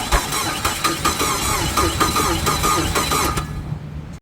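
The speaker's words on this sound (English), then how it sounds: "but it's cranking, so that's cool." Mitsubishi Eclipse with a backwards-wired battery cranking over, the starter chugging in a rhythmic close-up pulse for several seconds without catching, then cutting off.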